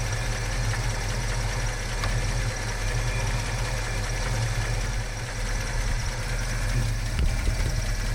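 A 1969 Fastback's engine idles steadily after a start, a loud, continuous low rumble with a slightly uneven, knocking pulse running unbroken throughout.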